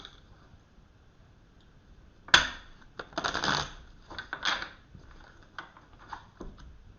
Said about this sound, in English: I'll give them another couple of shuffles